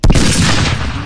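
A toy gun fires an electronic burst of loud gunfire sound effects, a sudden close blast that rattles on for about a second.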